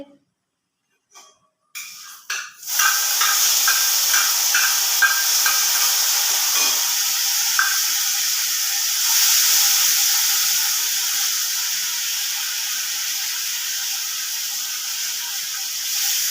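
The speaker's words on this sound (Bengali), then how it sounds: "দিয়ে মশলাটাকে একটু কষতে থাকবো।" A spice paste fries in a hot wok for a fish-head and taro-leaf curry, a steady steamy hiss that swells and holds after a couple of soft clicks at the start, loud and continuous without talk.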